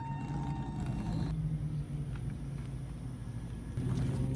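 A car pulls away for a spin, its engine a steady low rumble close by, with a brief change in tone partway through and a heavier throaty surge near the end.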